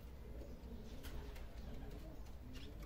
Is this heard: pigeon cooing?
yes